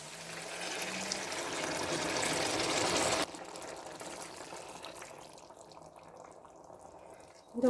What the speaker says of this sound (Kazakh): Енді үстіне қайнаған су құямыз.